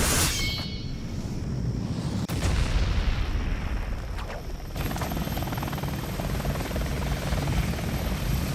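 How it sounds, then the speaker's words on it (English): Steady, loud rotor drone of a demon helicopter in the video game Shinobi (2002), continuous throughout with heavy booms and impacts breaking in near the start. "It's another helicopter. Demon helicopter there."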